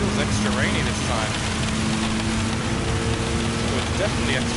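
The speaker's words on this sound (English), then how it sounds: "Oh, it's definitely extra rainy this time." Steady rain hissing on the track at High Speed Ring in Gran Turismo 7, blended with a constant car engine drone from a Gr.4 Mitsubishi race car, loud and unbroken throughout.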